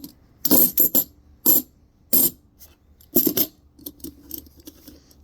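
Silver 1964 half dollar coin dropping and clinking on a hard surface, several bright metallic rings in quick clusters, then fainter jingling taps trailing off, close and alone.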